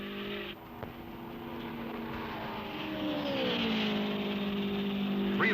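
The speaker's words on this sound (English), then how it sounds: "Mike passes Gary and takes the lead" Race cars at the 1972 Indianapolis 500 roar past on the track, their engine whine climbing and falling with a steady, loud rush, heard from a distance on an old film soundtrack.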